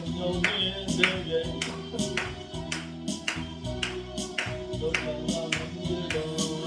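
A church congregation at a Friday prayer meeting claps hands in a steady, regular rhythm to a worship song, sharp repeated claps over singing and instrumental backing.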